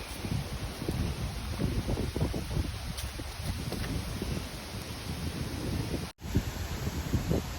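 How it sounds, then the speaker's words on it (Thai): Strong wind buffets the microphone in steady gusts outdoors near a stream in mushroom-foraging woodland, a low roaring rumble with rustling throughout and a brief dropout near the end. "ลมก็แรง"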